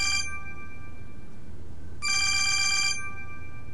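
A telephone rings in two bursts, an electronic trill with a short break between them, clear and close over a low background hum.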